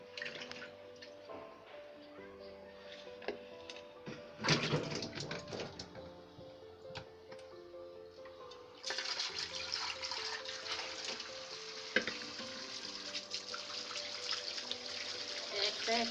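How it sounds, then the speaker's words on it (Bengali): Red tomatoes washed one by one under running tap water, with a steady faint stream, dripping and splashing that grows fuller partway through, with a low background hum. "একটা একটা করে সুন্দরভাবে ধুয়ে দিয়ে জিনিসটা পরিষ্কার হয়।"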